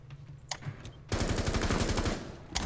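Rainbow Six Siege gunfire: a couple of single shots followed by a sustained, loud rapid-fire burst with fast repeating pops, up close and without talk.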